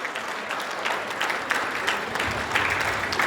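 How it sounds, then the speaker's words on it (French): An audience at a 70th birthday celebration claps, a lively and fairly loud patter of many hands with scattered louder claps and occasional murmurs and shouts from the crowd. "Si, mesdames et messieurs, on peut applaudir pour l'intelligence."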